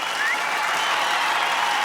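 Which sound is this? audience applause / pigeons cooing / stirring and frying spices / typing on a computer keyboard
audience applause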